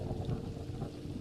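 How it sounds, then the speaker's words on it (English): Distant procedural thunder in a Horizon Worlds virtual world, a low, deep rumble that rolls steadily without sharp cracks, faint and far away, with no talk. "Tell me if, in just a sec, you can hear the thunder now?"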